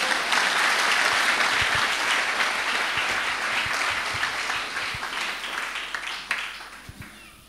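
Church congregation applauding and cheering the Lord during a Pentecost service, a dense wash of many hands clapping that begins loud and gradually thins out, with a few scattered claps near the end.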